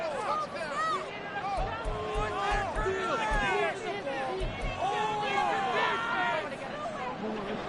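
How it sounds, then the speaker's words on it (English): A football stadium crowd roars continuously, a dense wash of many shouting, cheering voices rising and falling close and loud for several seconds. "This crowd turning up the decibel level."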